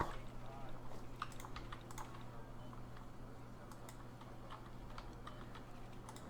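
Quick, light tapping on a computer keyboard at a desk, a steady scatter of soft keystrokes over a low hum, fairly quiet throughout.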